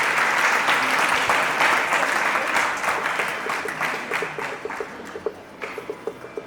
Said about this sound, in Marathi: पुन्हा एकदा जोरदार टाळ्या झाल्या पाहिजे.